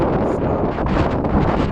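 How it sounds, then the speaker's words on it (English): Strong wind buffets an outdoor microphone, producing a steady, loud, rumbling roar with gusty surges throughout and no other distinct sounds. "It's very windy here today."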